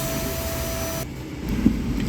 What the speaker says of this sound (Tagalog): At pagkatapos ko ng vacuum